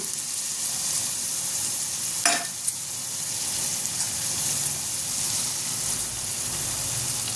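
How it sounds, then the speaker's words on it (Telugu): Prawns sizzle and crackle steadily in hot oil in a frying pan for a prawn curry, a continuous close frying hiss with a couple of brief clinks early on and no talking. "ఆవగించిన రొయ్యలు అయితే వేస్తున్నా"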